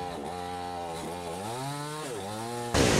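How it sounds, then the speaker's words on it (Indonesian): A chainsaw cuts through a fallen tree, its engine droning loudly and steadily with pitch dips as the blade bites into the wood, followed by a sudden burst of harsh noise at the end. "Dengan menggunakan gergaji mesin, tentara, polisi, BPBD, serta warga setempat, gotong royong menyingkirkan pohon tumbang"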